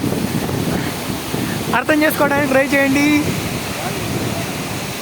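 Hebbe waterfall in Karnataka roars as a broad, steady rush of falling water close by, with spray striking the camera, while a person speaks briefly over it.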